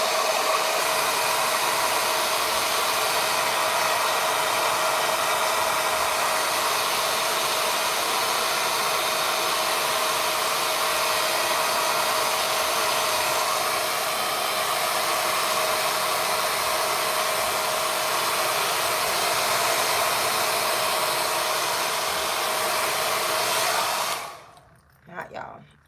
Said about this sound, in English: So I'm going to take my dryer again. I'm going to blow dry.